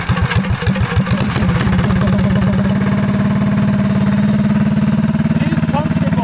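A custom-built show mini bike's engine idles steadily with a fast, even low-frequency putter, close and loud; it starts off a little uneven before settling, and people talk nearby.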